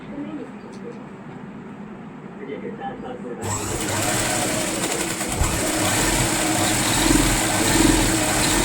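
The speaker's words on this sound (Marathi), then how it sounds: "त्याला पलटी करून वरून शिलाई मारून घ्यायची" A sewing machine stitching sleeve fabric whirs steadily at close range for several seconds, then a louder, broader motor run takes over and continues to the end, with a voice talking over it.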